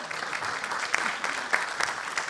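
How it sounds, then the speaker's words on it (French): An audience at a Europe–Africa forum applauds a deputy, a fairly dense run of clapping with a few sharper individual claps standing out, no speech over it. "On peut applaudir la députée,"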